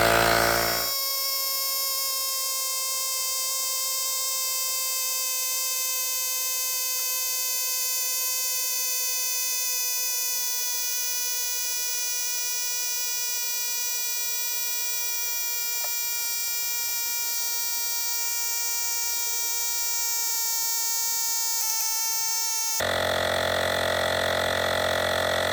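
A portable Temu tyre inflator pumps a tyre up to 32 psi, giving a loud, steady motor drone with a buzzing whine. It runs unbroken and alone for about twenty seconds, then cuts off.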